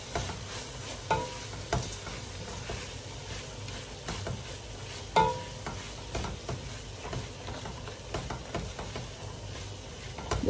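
Fish and okra stew stirred in a pot, producing faint, irregular scrapes and soft knocks of a utensil against the pot, with a low simmering background throughout and one slightly louder clunk midway.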